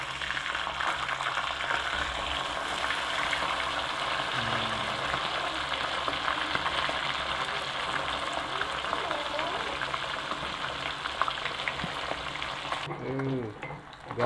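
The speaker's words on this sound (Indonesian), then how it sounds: "jadi sebelum ditumis tahunya digoreng dulu ya teman-teman" Tofu frying in hot oil for a Sundanese stir-fry gives a steady, loud sizzle throughout, with faint background noise and a brief voice near the end.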